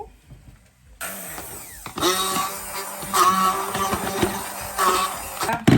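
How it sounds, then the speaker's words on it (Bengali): A kitchen blender whirs through a homemade mixture sweetened with jaggery. After a quiet second the motor kicks in loudly and runs in uneven surges, with no talking. "এখন আমি এটা ব্লেন্ড করব"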